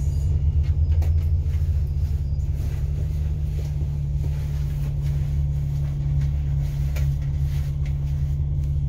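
Road traffic idling at a red light in Hong Kong, with a fire truck and several box trucks nearby, makes a steady, low engine rumble that holds evenly throughout with no talking.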